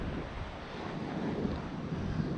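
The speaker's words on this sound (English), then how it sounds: "Beautiful waves today" Calm, glassy ocean waves wash onto an Outer Banks beach while a fat bike cruises along the sand, a steady broadband surf rush with some wind buffeting on the microphone.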